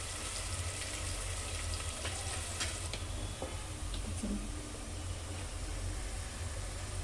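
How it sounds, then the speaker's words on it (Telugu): Onion fries in a pan with a steady close sizzle, punctuated by a few sharp clicks and light utensil taps, continuous and moderately loud without any voices. "చూడండి, ఆనియన్ ఇంకా ఫ్రై అవ్వలేదు"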